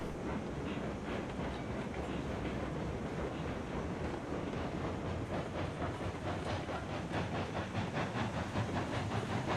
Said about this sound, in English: Got a nice chuff to it. Sounds like it means business.